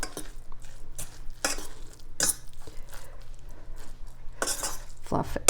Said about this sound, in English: Here is the rice. I'm gonna just give it a stir.